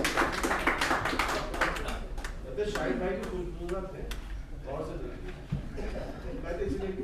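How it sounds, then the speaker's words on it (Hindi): Audience applause at a shayari poetry recital, a lively burst of clapping that starts strong and continues in patches, with a voice talking over it throughout. "ज़ोरदार तालियां दोस्तों खुशबू पर"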